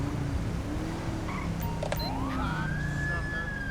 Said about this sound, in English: And I don't like the fact that he's got his sirens on.